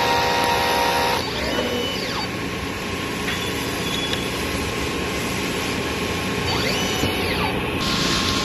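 A DTF printer runs a head-cleaning cycle: steady mechanical whirring with the printhead carriage sweeping back and forth in a few repeated passes, close and continuous with no talk.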